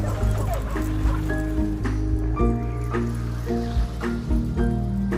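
Sled dogs of an Iditarod race team bark, yip and whimper in a dense, continuous chorus, with loud close barks punctuating steady excited whining throughout.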